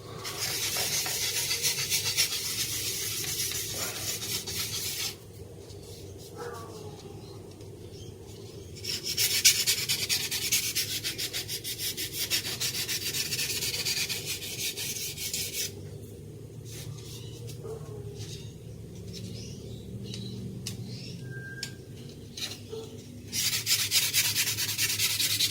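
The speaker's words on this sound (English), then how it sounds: "That just needs a touch of a sand." Sandpaper rubbing a part of a McDonnell Douglas F-4 Phantom II model kit, close scratchy strokes in bursts separated by short pauses, steady and unaccompanied by talk.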